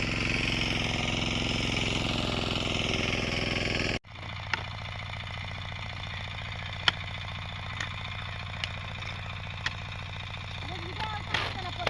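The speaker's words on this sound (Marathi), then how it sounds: "इथे ट्रॅक्टरने शेती चालू आहे" A tractor engine ploughing a field: a steady, low drone runs throughout, abruptly dropping in level partway, with occasional sharp clicks and knocks over the rumble.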